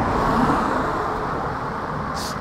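A diesel TDI car passes by on a road near a parked Mitsubishi Colt 1.1 hatchback, a steady broadband engine and tyre rumble holding at even loudness throughout, with no talk.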